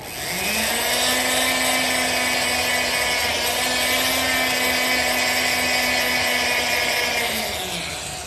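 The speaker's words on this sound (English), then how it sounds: "go through with a buffing wheel and some compound and get rid of that haze that I just created" A buffing wheel loaded with polishing compound spins against a stone-set jewelry piece, a steady high whine that ramps up, holds for several seconds and winds down, close and alone.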